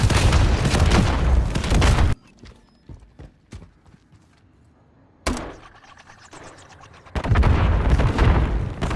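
Grenade launcher tube shots fire in Modern Warfare III on the Highrise map, heavy booming bursts at the start and end with quieter thuds and clicks between, loud and close.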